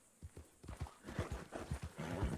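Horse hooves clip-clop at a steady walking pace in the WildRP video game, a run of close, fairly quiet thuds heard on their own.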